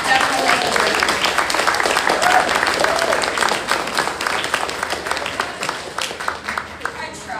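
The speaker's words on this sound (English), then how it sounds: "Give yourselves a round of applause because you guys definitely deserve it." Convention attendees at TrotCon fill the room with steady, dense applause that keeps going at an even level and thins slightly toward the end, with no voices standing out.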